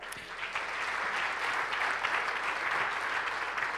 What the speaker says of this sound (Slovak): Ema Drobná, ešte raz veľký potlesk